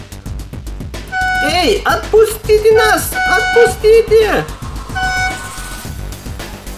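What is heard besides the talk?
cartoon car horn honking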